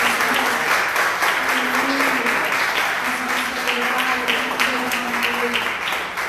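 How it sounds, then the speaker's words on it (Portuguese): Church congregation gives a sustained round of applause, thick and even clapping that fills the room, with a voice faintly underneath. "É uma salva de palmas para o Senhor."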